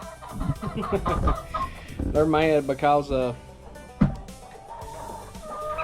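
Hens clucking from a pile of birds sitting on top of each other, a few soft clucks mixed with a woman's speech, plus a brief drawn-out squawk in the middle, close by.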